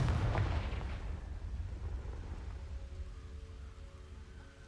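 A fiery Confringo spell blast erupts in a Harry Potter video game: one loud, booming burst up front that rolls off into a long, crackling rumble and fades away, with no voices.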